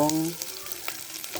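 Ginger sautéing in a pan, a short crackling sizzle with scattered pops following a brief tonal sound at the start.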